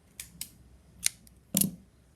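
Scissors snipping yarn while making a pom-pom: a few light, quick snips close up, then a louder crunchy cut near the end, in a quiet room with no talking.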